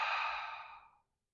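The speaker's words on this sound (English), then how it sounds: "all we're doing is more huffing or fogging the glass breath" A single soft, breathy open-mouthed exhale, like huffing to fog a glass, heard close and alone, fading out after about a second.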